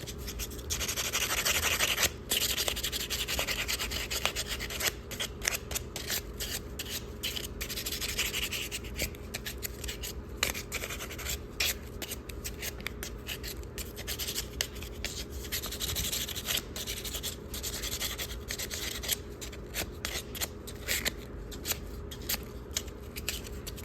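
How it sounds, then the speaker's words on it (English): Steady scratchy rubbing of sandpaper on jewelry, continuous and close, with irregular rasping strokes and a faint background hum. "then I would take my sanding paper and just finish that off."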